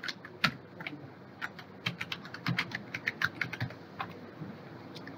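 Fingers type on a computer keyboard while entering passport details, a close run of quick, irregular key clicks with short pauses between bursts.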